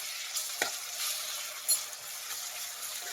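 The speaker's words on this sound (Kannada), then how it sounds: "ಇದು ಹಸಿ ವಾಸನೆ ಹೋಗೋವರೆಗೂ ಫ್ರೈ ಮಾಡಬೇಕು." Ginger garlic paste frying in a pan sizzles quietly and steadily, broken by a couple of brief spoon scrapes and taps, close up with no speech.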